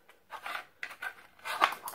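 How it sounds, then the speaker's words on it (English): A small gray all-rubber ukulele stand is folded up in a few quick handling motions: soft scraping, rubbing and clicks come in short bursts, close and quiet. "Okay, now we're gonna shut it down. Folds there, and then it'll fold again."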